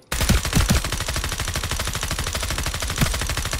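Rapid automatic gunfire on the FragPunk firing range, a video game: one continuous, loud, evenly spaced stream of shots runs almost the whole time, close and unbroken, with a few heavier thumps mixed in.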